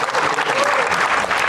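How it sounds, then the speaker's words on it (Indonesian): Loud, dense applause from a live audience at a comedy competition show, a brief burst of many hands clapping close and full, with faint crowd noise beneath. "Tepuk tangan untuk kalian semua."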